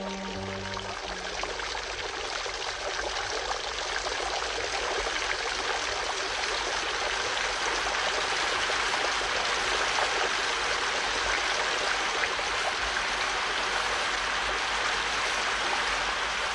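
Water of a mountain river in Cuenca rushing steadily at its source, a dense, continuous close-range roar of flowing and splashing water with no break for the whole stretch.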